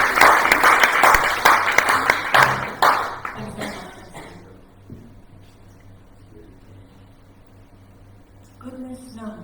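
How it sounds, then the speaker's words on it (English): An audience claps and cheers for a poet at a live zine launch, dense applause in a room that fades out after a few seconds, leaving quiet room noise and faint sounds. "A big cheer for Nina Telegina."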